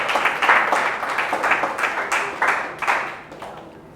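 A church congregation claps loudly in steady rhythm to thank Jesus, with crisp, evenly spaced hand claps from a crowd that taper off slightly near the end.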